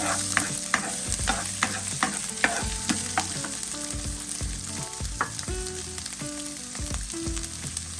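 Ginger frying in hot oil in a pan while being stirred, with a steady sizzle broken by repeated scraping and clinking utensil strokes against the pan, close by and without talk.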